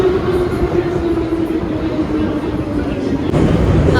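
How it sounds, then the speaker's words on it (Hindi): A Moscow metro train runs underground with a steady loud rumble and rolling wheel noise, a sustained hum running throughout and no clear talk. "हम लोग अभी मेट्रो में है."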